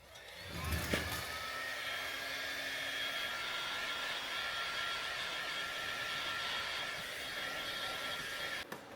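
A heat gun blows a steady, continuous whoosh with a faint whine while warming the quarter panel of a Toyota Glanza's car body, starting with a brief clatter and holding constant throughout, no talk.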